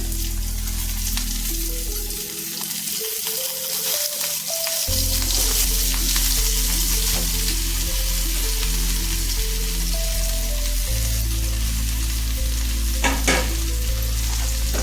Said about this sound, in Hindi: गैस रा फ्लेम को हाई रखी आम को भाजवा